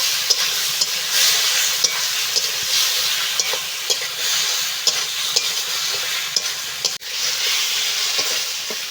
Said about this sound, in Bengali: সিদ্ধ করে রাখা আলুটা দিয়ে দেবো এখানে দিয়ে এইভাবে একটু ভালো করে কষে নেব